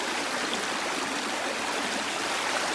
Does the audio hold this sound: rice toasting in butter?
no